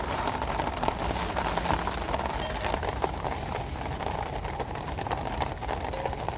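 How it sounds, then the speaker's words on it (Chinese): Rain falls on a camp shelter in the wild during a downpour, producing a steady, even hiss of drops that continues without a break. "现在下了雨，它会有那种到处溅的小雨滴或者水汽，会进到这个里面。"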